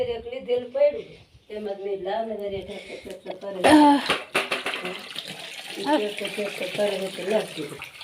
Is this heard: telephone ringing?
no